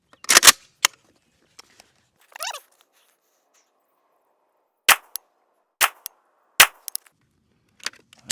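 A rifle action fitted with a Texas Weapon Systems Gen3 dust cover is cycled hard, producing a series of sharp, loud metallic clacks and snaps spaced out with silent gaps between them, close to the microphone.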